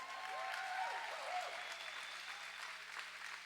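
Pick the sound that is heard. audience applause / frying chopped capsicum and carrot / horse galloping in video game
audience applause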